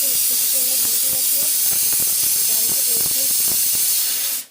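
A pressure cooker cooking taro lets out a loud, steady hiss of escaping steam that runs nearly the whole time before cutting off at the end.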